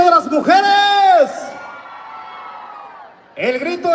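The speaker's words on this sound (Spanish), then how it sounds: "¿Dónde está el grito de las mujeres?" A crowd at an outdoor huapango concert in Yahualica, Hidalgo lets out loud, high whooping shouts, two bursts of cheering separated by a sustained yell that fades before the crowd erupts again.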